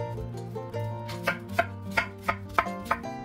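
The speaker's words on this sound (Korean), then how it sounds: "배 반개는 껍질 까고 썰어주세요." A knife cuts through a peeled pear on a cutting board, for kimchi seasoning. Soft slicing gives way to about seven crisp, evenly spaced chops that land on the board, close up and with no talk.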